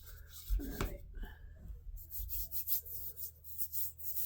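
Hot glue residue is scraped off a plain plastic ornament in short, close rubbing and scratching strokes, a quick run of gritty scrapes followed by a rhythmic series of quieter rasps.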